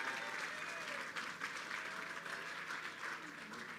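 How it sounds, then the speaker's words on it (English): Audience applause at the opening reception for the Kosciuszko Bridge, a steady, dense clapping from a crowd that carries on evenly throughout. "Let's give him a round of applause."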